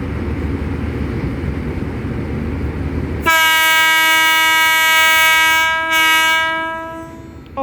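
Low rumbling locomotive engine noise at a station, then a loud, sustained train horn blasts in, holding steady for several seconds before fading at the end.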